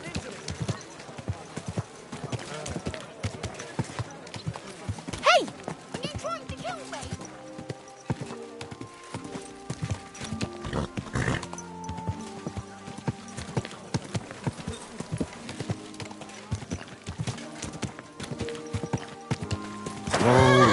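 Horse hooves clip-clopping and neighing in the video game Kingdom Come: Deliverance II, steady hoofbeats under frequent talk, with a whinny, a shouted line and game music alongside.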